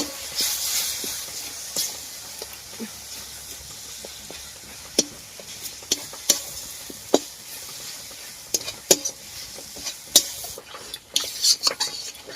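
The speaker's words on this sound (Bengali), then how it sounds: "মশলাটার মধ্যে জল দিয়ে ভালো করে নেড়ে নেব।" A spoon stirs wet spice paste with added water in a pan, giving a steady sizzle under sharp, irregular clinks and scrapes of utensil against metal for chicken curry, close and alone.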